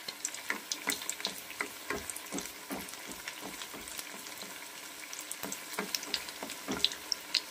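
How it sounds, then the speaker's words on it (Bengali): Chicken cutlets fry in white oil in a pan, a steady crackling sizzle broken by sharp repeated pops and spatters, close and fairly loud, with no talking. "আমি কিন্তু সাদা তেলেই ভাজবো।"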